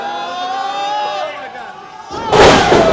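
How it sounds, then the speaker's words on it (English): A wrestler is slammed off the top rope onto the ring mat at a professional wrestling show, a loud heavy impact near the end that rises above crowd noise after a stretch of excited commentary. "Santos quick to his feet, slamming Pharaoh Johnson off the top rope."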